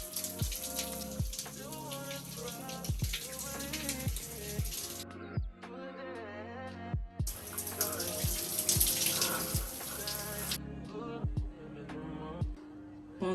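Shower water runs steadily over someone washing their hair, a broad continuous hiss that stops for a couple of seconds midway and resumes, heard under music with a regular beat.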